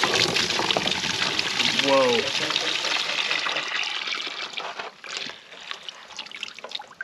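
Diesel fuel drains from a 1941 Caterpillar D4 engine in a steady close trickle and splash, with a man's brief exclamation over it as the flow continues throughout.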